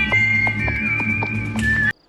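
Whistled melody from the spaghetti western soundtrack of A Fistful of Dollars, a clear sustained whistle gliding over a rhythmic plucked accompaniment with steady beats, ending abruptly.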